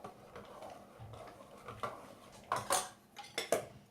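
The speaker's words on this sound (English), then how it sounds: "I'm going to add the red chili powder, and just give it a good mix" A spoon clinks and scrapes against a pot while red chili powder is mixed into a low-oil vegan chickpea curry, a few quiet scrapes followed by sharper metallic knocks near the end.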